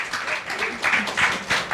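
An audience gathered in Korea claps to welcome a visiting team, the applause coming in uneven swelling bursts of moderate loudness over a short stretch.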